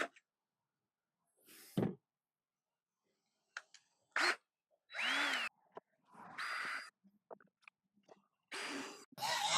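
A power drill bores holes in wood at a woodworking bench, fitting a crosscut sled, in several short separate bursts of high whirring with quiet gaps between them, close up and fairly loud.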